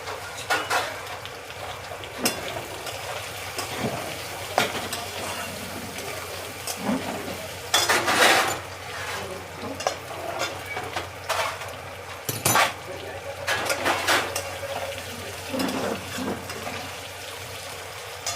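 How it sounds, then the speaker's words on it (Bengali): Potatoes frying in a pan with occasional stirring, a low steady sizzle broken by several scraping, clattering bursts of utensil against pan. "চলো আলুটাকে ভালো করে লাল করে সুন্দর করে ভাজি"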